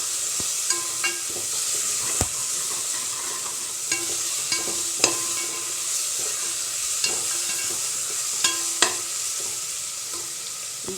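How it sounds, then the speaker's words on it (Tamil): Ginger and garlic sauté in a pan for South Indian green peas rice, giving a steady close sizzle broken by frequent sharp scrapes and clicks of a spoon stirring. "இஞ்சி பூண்டோட பச்சை வாசம் போகிற வரைக்கும் வதக்கலாம்."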